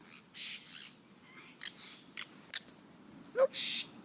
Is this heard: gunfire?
no